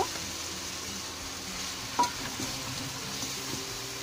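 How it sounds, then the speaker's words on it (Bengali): Chopped unpeeled potatoes fry in a pan with kachki fish, a quiet steady sizzle broken by a sharp utensil clink and light stirring scrapes. "আমি এখন আলু কুচি করা গুলো দিয়ে দিব।"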